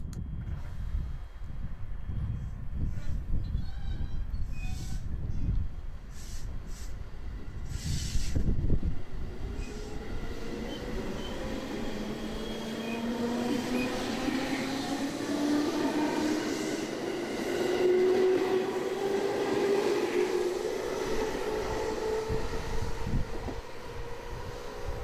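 Shinkansen bullet train riding near Tokyo, with a steady interior rumble of running rail noise, rising whine tones as speed changes and a brief louder rush partway through, continuous and close.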